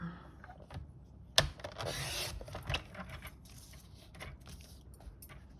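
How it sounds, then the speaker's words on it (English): A paper trimmer cuts cardstock up close: a sharp click, then a brief scraping glide of the blade across the sheet, followed by quieter rustling and handling, with no talking. "we're now going to just swivel this round and trim it"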